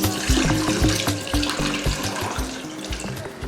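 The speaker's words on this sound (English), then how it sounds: "now we are going to be adding water to the meats" Water runs steadily into a pot of meat being cooked for soup, a close, continuous pouring splash with small gurgling pulses and no talk.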